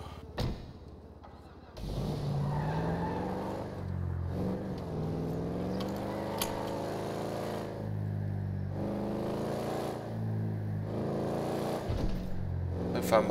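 Car engine in GTA roleplay driving, a steady revving drone that rises and shifts in pitch through gear changes, loud and continuous after a quiet opening.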